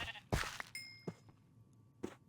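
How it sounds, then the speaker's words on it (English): Minecraft sheep on a sheep farm let out several short, close bleats spaced irregularly, with a faint ding and soft game background in between and no talking. "we had a baby sheep, this guy right here, who grew up into an adult sheep"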